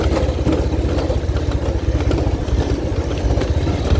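A motorcycle creeps slowly over a rocky road toward a hill village, its mid-pitched engine chugging steadily with rattles and clatter from the rough ground, close and continuous.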